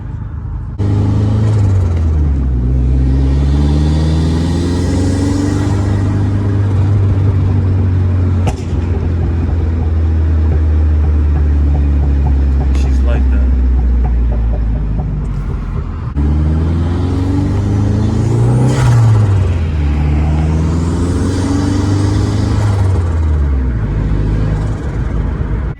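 A Dodge SRT4 with a freshly installed hub and bearing accelerates hard through the gears from inside the cabin, engine revs climbing and dropping in repeated sweeps with loud road rumble, while a passenger says a few words.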